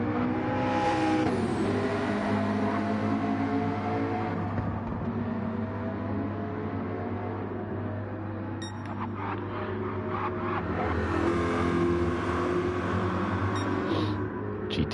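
A McLaren GT race car in a sim racing league race drones steadily at high revs, a sustained engine tone with shifting pitch and a few brief bumps, heard alone.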